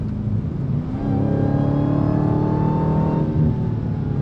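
A 2023 Dodge Challenger Black Ghost muscle car on a race track, its V8 engine roaring steadily under hard acceleration, loud and close with a rising rev pitch throughout.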